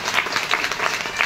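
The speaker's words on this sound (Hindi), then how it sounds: "जोरदार ताली अपने लिए बजाइए" A crowd at an RCM leaders' celebration in Dehradun gives loud, dense applause that continues throughout without a break.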